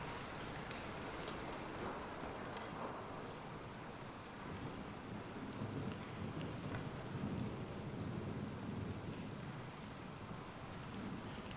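Steady rain with rolling thunder in the video game Bendy and the Dark Revival, a constant dense downpour heard alone throughout with low rumbles swelling in the background.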